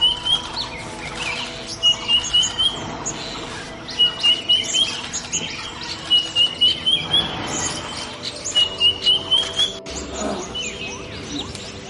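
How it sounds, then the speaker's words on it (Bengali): Hill mynas call in the Satchari forest in repeated bursts of bright, fluting notes at a steady rhythm over a low, constant forest hum, with no talking. "মাঝে মধ্যে পাহাড়ি ময়নাগুলা অনেক দূরে বসে বসে ডাকাডাকি করে"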